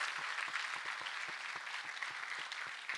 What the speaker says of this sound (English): And a clap for Master Jesus.